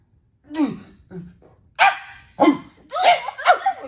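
A series of short, yappy barks from a small dog, close by, in uneven bursts with brief pauses between.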